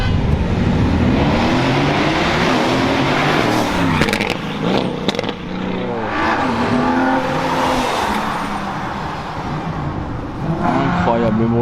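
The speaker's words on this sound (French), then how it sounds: "Il y a la F12 Berlinetta là qui part. Encore un V12." A Ferrari F12 Berlinetta with a V12 engine pulls away at a supercar gathering in Leman, its revs rising and falling in loud, sweeping engine notes, with voices faintly in the background.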